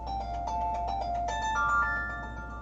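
A melodic phone ringtone chimes during a live coin auction, a steady string of tonal notes rising in pitch, moderately loud over a low background hum.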